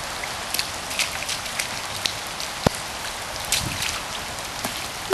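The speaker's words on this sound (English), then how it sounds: "It's pouring." Steady rain pours down in a wet outdoor setting around a puddle, a dense continuous hiss of drops striking the ground with occasional sharper nearby splats and no talk.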